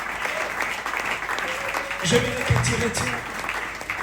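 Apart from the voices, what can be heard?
church congregation applauding and cheering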